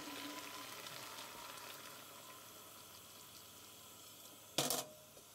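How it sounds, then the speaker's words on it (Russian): Water comes to a boil in a kettle as a quiet, steady hiss and rumble, with one sharp, brief clatter near the end. "Вот теперь вода закипела."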